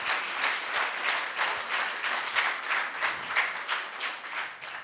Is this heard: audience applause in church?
yes